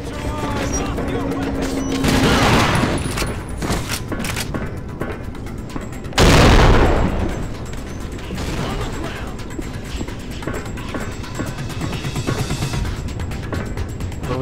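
Gunfire in the TimeShift video game, a loud sustained fusillade of rapid shots with mechanical clatter and a heavy crashing burst midway, under shouted voices.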